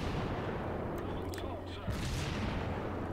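Naval gunfire with high explosive shells from warships in the World of Warships game, set around the Solomon Islands: a dense, steady rumble of distant booming salvos, one heavier thump near the two-second mark, with faint voice-like traces over it.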